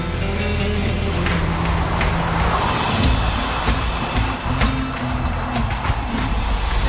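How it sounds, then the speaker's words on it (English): A Porsche sports car laps a race track at very high speed, its engine a steady, loud, continuous roar that swells and fades slightly as it passes, with no talk over it. "Two super fast laps show Ghosn how the Porsche performs"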